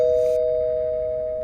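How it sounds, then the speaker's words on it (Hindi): A doorbell at a flat gives one sustained electronic chime tone, loud and steady, fading slightly over a second and a half with nothing else around it. "काफी बार डोरबेल बजाने के बाद भी कोई दरवाजा नहीं खोल रहा था।"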